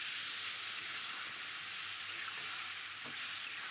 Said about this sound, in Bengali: ডিমটা দিয়ে একটু নেড়ে চেড়ে তেঁতুলের কাপটা দিয়ে দিতে হবে।